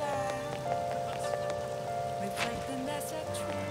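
Video game rain in Persona 5 Royal, a soft, steady patter under background music with tonal chimes and a few brief effects.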